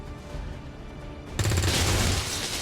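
Gunfire and a burst of explosive crackle in the turn-based strategy game XCOM 2, a low rumbling backdrop giving way abruptly to a loud, dense volley of shots that holds to the end.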